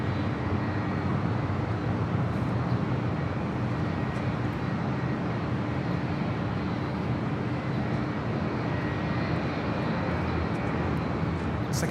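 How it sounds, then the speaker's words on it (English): A Delta Airbus A330neo airliner pushes back at LAX, producing a steady, loud engine rumble and roar that holds evenly throughout with no talk. "Looks like we have the Delta 330 Neo pushing back, flight 934, destined for JFK."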